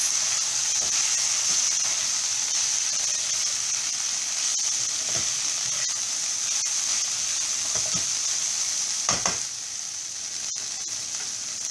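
Okra (bhendi) fries with coriander powder in a pan, giving a loud, continuous hissing sizzle with a few soft stirring knocks scattered through it.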